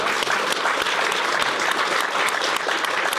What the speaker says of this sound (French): c'est Clémence Oudiakova, qu'on peut applaudir bien fort.